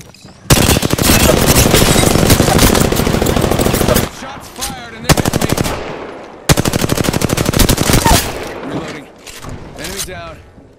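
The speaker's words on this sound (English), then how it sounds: "Shots fired and they hit me." Automatic weapon fire in the video game Apex Legends, long loud rapid bursts of gunshots separated by short pauses, up close and dominating, with brief quieter game sounds between bursts.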